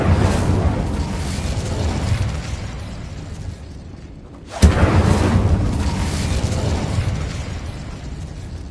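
In Hogwarts Legacy, an Incendio fire spell erupts as a sharp, loud burst followed by a roaring, crackling wash of flame, set against ongoing rumbling combat noise that dips just before the blast.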